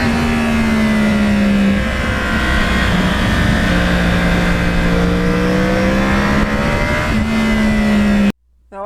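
A Yamaha R1 crossplane motorcycle engine revs loudly and close, holding a strong steady drone with pitch swells as the throttle rises and eases, then cuts off abruptly near the end.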